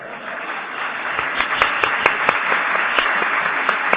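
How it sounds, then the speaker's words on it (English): An audience claps steadily in a lecture hall, a dense, moderately loud patter of many hands with a few sharper, closer claps standing out, and no talking. "I applaud."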